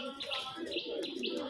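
A female giribaz pigeon coos nearby, soft repeated throaty calls mixed with light chirps, while faint background noise runs underneath.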